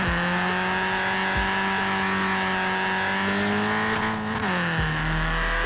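A 1983 MK1 Golf GTI in Forza Horizon 4 launches hard with traction control off, its engine note climbing steadily through the revs with a gear change near the end, loud and continuous with no talk.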